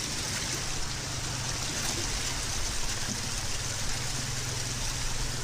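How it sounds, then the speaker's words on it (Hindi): Steady broadband rush of a waterfall in the mountains of Gilgit-Baltistan, water pouring down continuously, close and even in loudness with no pauses. "दोस्तों ये एक आबशार है, इसमें पानी गिर रहा है"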